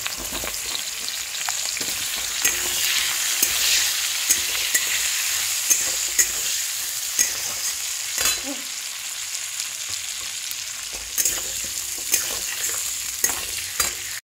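Potatoes, nigella seeds and green chillies frying in hot oil for a hilsa curry, a steady loud sizzle with periodic spoon clinks and scraping strokes against the pan.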